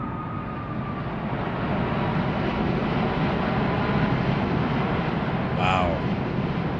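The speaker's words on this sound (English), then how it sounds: "The flyby actually legit sounds good" A four-engine airliner in a flight simulator game roars past in a steady, broad, loud engine rumble that holds for several seconds, with a brief voice cutting in near the end.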